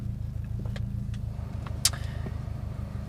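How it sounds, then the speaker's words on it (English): A car running a Cobb Accessport off-the-shelf Stage 1 map, its engine settling into a steady low idle after starting, with a few sharp clicks and a brief high squeal over the rumble. "I'm going to start my car."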